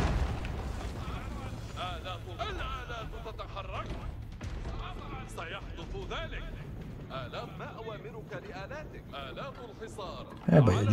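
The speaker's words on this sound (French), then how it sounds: "Oulala, les canons, non?" Cannon fire in the video game Age of Empires IV, heard as booming battle blasts under constant talk across a busy siege, ending in a louder crash.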